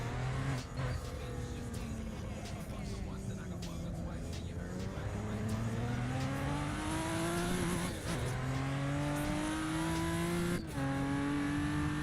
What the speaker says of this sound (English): I'm gonna let the Lamborghini go through.